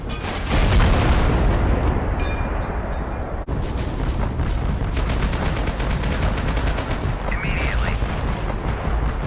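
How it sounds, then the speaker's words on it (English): Artillery cannons in the video game Total Conflict: Resistance fire heavy booming blasts with dense gunfire and explosions over nine seconds. The sound is loud and continuous, with one sharp drop before the barrage resumes. "Now we got to show you the cannon from this earlier."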